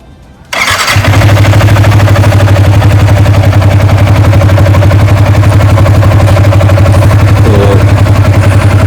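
A car engine runs steadily after a coolant flush and top-up with the air bled out, starting with a sharp catch and then settling into a loud, even idle hum that continues alone with no talk.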